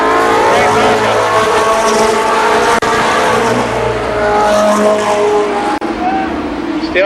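Race cars roar around the oval at Columbus Motor Speedway during the 1993 Firecracker Championship, a loud, continuous blend of engines with a commentator talking over the action throughout.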